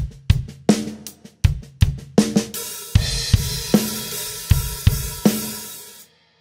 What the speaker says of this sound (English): so we're going to leave it open and we're going to hit a crash on 1 for the chorus.